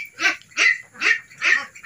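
Ducks honk on a duck farm, four loud, evenly spaced calls close by with no talking.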